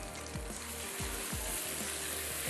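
Qeema paratha laid on a very hot tawa gives a steady, loud, close sizzle throughout, with regular low knocks or pats recurring about every half second beneath it, and nobody talking.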